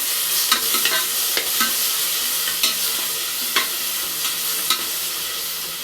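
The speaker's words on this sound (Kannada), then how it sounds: "ಇದನ್ನು ಹಾಕೊಂಡು ಒಂದು ನಿಮಿಷ ಫ್ರೈ ಮಾಡಿಬಿಟ್ಟು" Ground greens paste frying in a pan for a lentil-and-greens sambar, a steady close sizzle broken by regular scraping strokes of a spoon, with no one speaking.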